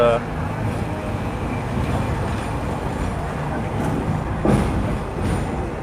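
A Hong Kong tram rolls along with a steady rumbling drone, close and fairly loud, with a brief clank near the end.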